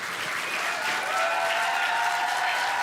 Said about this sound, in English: you can continue clapping